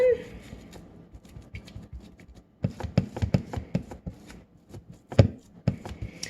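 Hands pat gluten-free pizza dough flat in a pan, a close run of soft, irregular slaps and taps that starts quietly and grows busier and louder in the second half.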